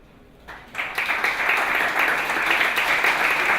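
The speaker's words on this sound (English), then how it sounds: "applause for Victor" An audience at a startup competition pitch applauds, the clapping swelling in quickly after a brief quiet start and holding steady and full to the end.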